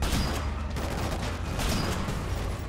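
Shotgun blasts with heavy knockback in the video game Killzone Shadow Fall, dense and continuous with rumbling low-end booms and chaotic battle noise throughout, no clear gaps between shots.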